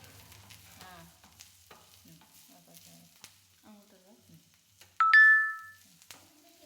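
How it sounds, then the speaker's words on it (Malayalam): Garlic and curry leaves sauté in a pan for a chutney, giving a faint, steady crackle under soft background voices, broken near the end by a loud, sharp electronic beep. "വെളുത്തുള്ളിയും കറിവേപ്പിലയും ഇതെല്ലാം വഴണ്ട് വരുന്നുണ്ട്"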